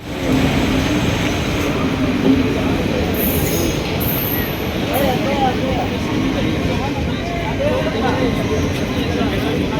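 Hatia Asansol Express train standing at or pulling through Dhanwar station in Jharkhand, with a steady loud rumble of carriages and brief high wheel squeals, plus voices in the background.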